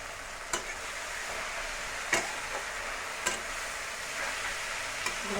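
Fenugreek leaves fry in a pan with a steady hiss while a spoon stirs them, scraping at intervals with four sharper clicks against the pan, up close and with no talking.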